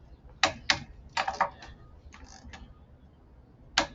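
Torque wrench clicking on wheel lug nuts while tightening in a star pattern, sharp close clicks in short pairs and clusters with pauses between, no talk.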